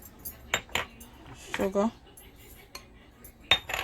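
Garlic pork marinade ingredients are mixed in a bowl with a spoon, giving a few sharp metallic clinks and scrapes spread across the moment, close by and fairly quiet, while a voice speaks briefly.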